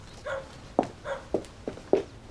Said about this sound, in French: Mais c'est pas le chien des Martins qu'on entend là.